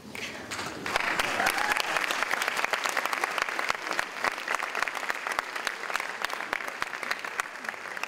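An audience claps at a senior awards night, dense steady applause with scattered sharp individual claps that swells after a brief quieter start and holds strong throughout.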